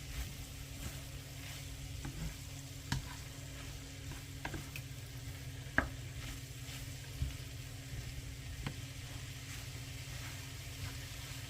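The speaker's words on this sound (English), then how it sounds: "I just like to watch myself stir it around" Vegetable and rice stir-fry stirred in a pan, a quiet low sizzle with scattered soft scrapes and taps of the utensil, under a steady background hum.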